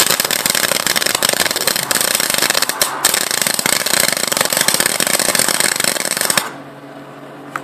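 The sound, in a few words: welding bar stock together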